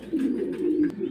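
Pigeons kept as breeding pairs give one short, close coo, a low throaty murmur lasting about a second.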